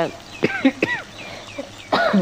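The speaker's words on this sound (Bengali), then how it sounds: "ওর মাগো কাশি, সরি" A woman coughs a few times in short, throaty bursts, close and fairly loud, in a home kitchen while cooking with fish and potatoes, with quiet room sound between the coughs.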